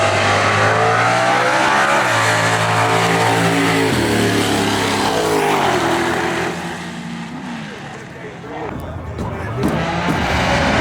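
Drag racing cars accelerate hard at a Street Car Takeover event in Houston, a loud sustained engine roar with rising revs and gear changes, dipping briefly before another pass roars up near the end.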